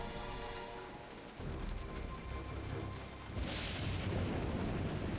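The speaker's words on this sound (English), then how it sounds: "This storm?" Heavy storm rain from Jurassic Park: The Game pours down steadily as a dense, hissing wash, with low rumbling booms beneath and the downpour growing louder toward the end.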